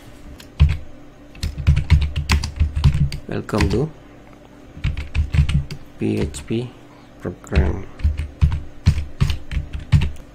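Typing on a computer keyboard, a steady stream of close, sharp key clicks in irregular bursts under someone speaking Tamil as he works in Notepad++.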